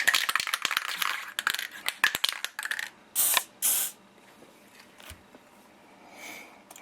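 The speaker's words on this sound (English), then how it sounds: "I'm just going to shoot the springs and everything with some lithium grease" Lithium grease sprays onto AR-15 buffer springs in two short hissing bursts, preceded by sharp metallic clicks and handling taps, with faint quiet handling afterward.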